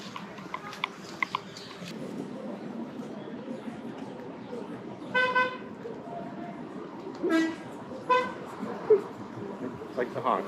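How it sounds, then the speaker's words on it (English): A vehicle horn toots several times in short bursts around a harbor check-in area on Bequia, moderately near, over a busy background murmur of voices and activity. "Like the honk."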